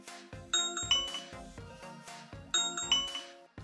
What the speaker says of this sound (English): you can program those devices to ring when somebody press Wyze Doorbell